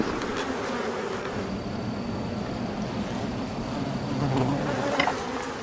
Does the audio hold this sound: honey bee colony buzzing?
yes